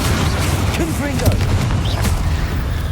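A Confringo blasting spell bursts in the Hogwarts Legacy video game, a dense booming roar that fills the whole clip at constant loudness, with brief whistling magical tones flickering over the rumble and no talk.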